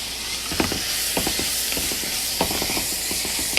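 Black beans and corn seasoned with salt and pepper cook together in a pan, a steady broadband sizzle with faint stirring scrapes and small pops, close and continuous.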